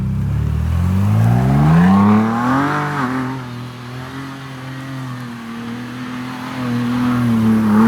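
Ford Bronco Raptor in Baja mode with two-wheel drive and rear locker engaged, engine revving hard while spinning donuts; a loud close rising roar settles into a steady sustained drone with wavering pitch.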